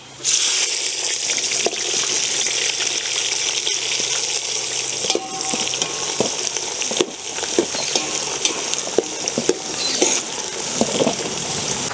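Onions and fennel seeds frying in a pan for a village-style duck gravy, a loud continuous sizzle with scattered scrapes and knocks of stirring, close by and unbroken, with no talk.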